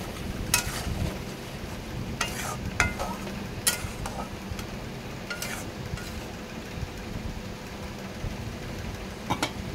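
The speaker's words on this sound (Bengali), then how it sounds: "মশলাটা ধুয়ে জলটা দিলাম, দিয়ে এবার এটাকে একটু ভালো করে কষিয়ে পনিরগুলো দেব" Masala with a splash of water being sautéed and stirred in a pan for paneer biryani, a low continuous bubbling sizzle with occasional bright clinks and scrapes of the spoon against the pan.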